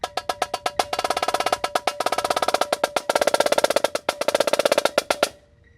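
Marching snare drum from a 2018 Vandegrift snare break plays rapid rolls and triplet strokes that swell louder toward the end, then stop abruptly. The strokes are crisp, close and dense, with no other sound.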